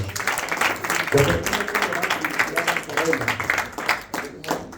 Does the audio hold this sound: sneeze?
no